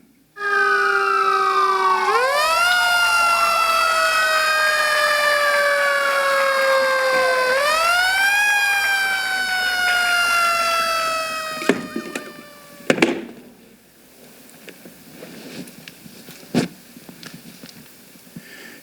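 An emergency siren wails loudly and steadily for about twelve seconds as a sound effect in a theater performance, rising and falling in sweeping tones, then gives way to scattered thumps and clatter.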